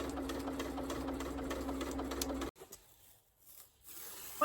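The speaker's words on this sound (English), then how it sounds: "I'm just stitching just outside the edges of the masking tape" A sewing machine runs steadily and close, stitching a quilted diamond pattern along masking tape on fabric, a fast even whirring hum that stops abruptly about halfway, leaving a few faint handling sounds.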